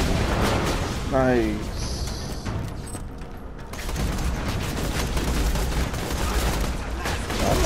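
A Borderlands rocket launcher fires amid a barrage of gunfire and blasts, dense, loud, continuous explosive bursts with a brief rising whine, while someone speaks briefly over the din.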